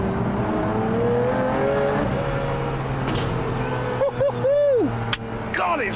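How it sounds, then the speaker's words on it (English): A big V12 engine crackles and burbles on the overrun, loud and close, with a brief high whine and rising pitch sweeps near the end. "Listen to the engine on the overrun."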